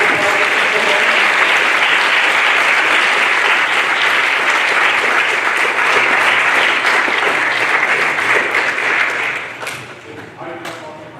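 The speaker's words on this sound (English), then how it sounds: "can we give them one more round of applause?" Loud sustained applause from the audience at a school board meeting, a thick wash of clapping close by that holds steady before dying away into a few scattered claps.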